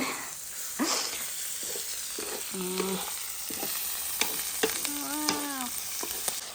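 Frogs frying in a blackened pot over a strong fire, a continuous crackling sizzle with sharp pops and stirring scrapes, while faint voices rise briefly in the background.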